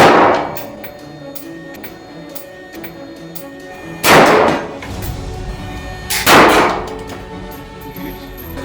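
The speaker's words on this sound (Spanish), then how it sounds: "Disparamos la AK-47" Two loud, sharp AK-47 rifle gunshots ring out a couple of seconds apart, each followed by a ringing echo, with quieter clanks in between.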